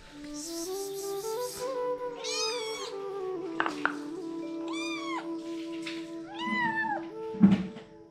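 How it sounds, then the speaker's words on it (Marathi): A cat meows in a village in the morning, giving several drawn-out, clear meows one after another at fairly close range over a steady low hum. "ते मांजर पाहते कुठे उंदीर मिळते का"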